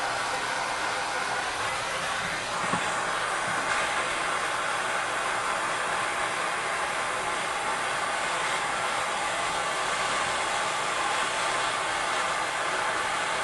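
A torch flame roars in a steady, even hiss as it heats a brass shower valve for soldering, continuous and close throughout with no pauses.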